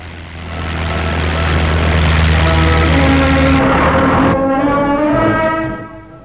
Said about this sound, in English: Commando was Churchill's plane, as we know.